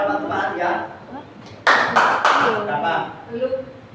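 A group claps together in a classroom clapping game at a school positive-discipline session: three sharp, loud clap bursts in quick succession mid-clip, with people talking before and after.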